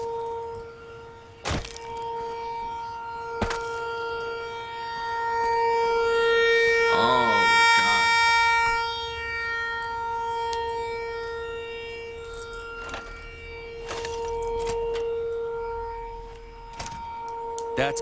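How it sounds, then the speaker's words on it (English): Wailing radio siren in the video game Fallout: New Vegas, rising and falling in a sustained tone over a steady game soundscape, swelling loudest midway with sharp thuds scattered around it. "Radio siren."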